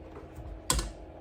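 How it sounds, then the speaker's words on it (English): A single keystroke on a seven-key Bluetooth keyboard makes a sharp, close-up click, standing alone over a faint room hush. "I got this 7 keys, fully Bluetooth keyboard, and I love it."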